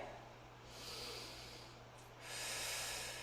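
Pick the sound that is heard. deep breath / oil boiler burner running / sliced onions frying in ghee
deep breath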